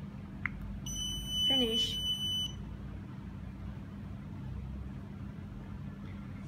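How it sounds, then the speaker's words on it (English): Smart home gateway sounds a confirmation beep during setup, a clear tone lasting about a second and a half, fairly close, with a brief spoken word in the clip and steady low hum beneath. "Long beep sounds to confirm successfully"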